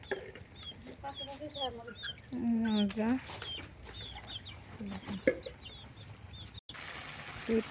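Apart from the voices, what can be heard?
chickens clucking nearby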